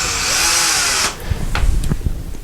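Power drill boring slowly into drywall, a loud whining motor burst that cuts off after about a second, followed by lower rattling knocks and handling sounds.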